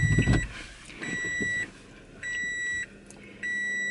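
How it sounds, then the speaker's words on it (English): A parked car sounds its warning chime in repeated long electronic beeps, three clear tones separated by short gaps, over a quiet indoor background. "Wait for the car to stop beeping."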